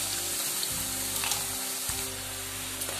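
Potato chips frying and being pressed and stirred in hot oil as they turn golden and crisp, giving a continuous close, dense sizzle with a steady low bubbling hum throughout.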